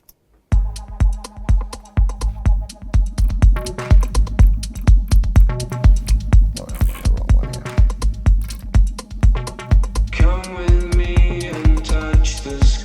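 An electronic dance track with a pounding, steady beat and synth layers, with sung backing vocals rising near the end.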